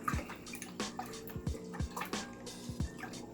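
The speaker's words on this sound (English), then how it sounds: "Now give that a little stir." A plant nutrient solution is stirred in a container of water, producing soft repeated sloshing and dripping sounds at a gentle, irregular rhythm, close and fairly quiet.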